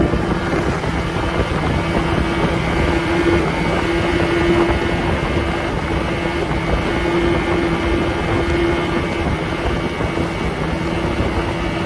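A small boat running at high speed under a 1989 30hp Yamaha Mariner outboard, a loud steady engine drone with rushing wind buffeting the microphone throughout.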